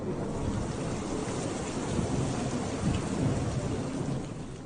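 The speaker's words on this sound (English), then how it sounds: "Downpour caused flooding in many areas of Laramie." Heavy rain pours down steadily during a monsoon thunderstorm in Laramie that brought flooding and hail, a dense continuous hiss with low rumbles of thunder swelling midway, with no talk.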